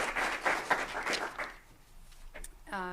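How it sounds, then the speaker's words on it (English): A caucus audience applauds a former mayor of Burlington, a short burst that fades after a second and a half into quieter room noise and brief voices. "So let's give it one more round of applause to former Mayor Weinberger."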